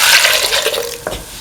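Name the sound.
pouring coconut milk into stew pot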